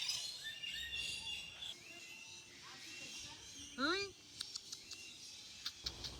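Birds in an aviary at Ramoji Film City in Hyderabad, with scattered chirps and one louder rising call amid quiet ambience, while people talk nearby.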